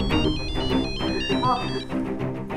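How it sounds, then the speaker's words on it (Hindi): A telephone rings in a household setting, its repeated electronic trill running through the short moment while voices talk over it. "अरे अनीता, किसका फोन है?"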